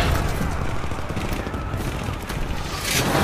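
Dense, loud burst of machine gun fire from an action film, with continuous rapid rattling shots and booming impacts filling the whole stretch.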